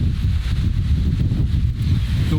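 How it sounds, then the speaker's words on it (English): Strong wind buffets the microphone in a continuous low roar on a beach at Sihanoukville, Cambodia, with a faint wash of surf-like noise behind it. "It is super windy down here."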